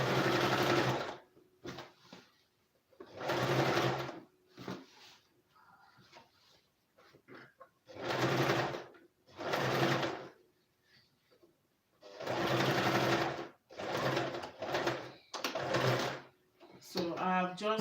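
A sewing machine stitching two pieces of fabric together runs in several short, loud bursts of steady whirring, with quieter pauses in between.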